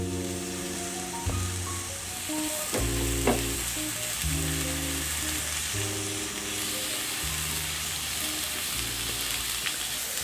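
Red onion and garlic sautéing in sesame oil for vegan sriracha ramen, a continuous bright sizzle with occasional utensil clinks and stirring, close and steady, no talk.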